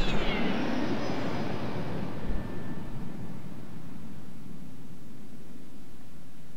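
A stealth bomber in the Cyberia video game gives off a loud, roaring engine rush that starts strong with a whining tone, then settles into a steady, fainter hiss of jet noise.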